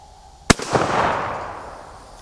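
J.C. Higgins 583.20 bolt action shotgun fires a single loud, sharp blast close by, followed by a rolling echo that fades over about two seconds.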